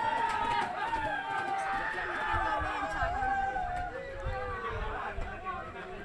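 At a cricket final between two local sector teams, a crowd near the stage cheers and chatters in a steady, excited hubbub, with a commentator's voice running over it.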